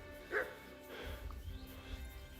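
A dog in Kingdom Come: Deliverance 2 gives a single sharp bark during a fight, close and clear, followed by low rumbling game noise and faint background voices.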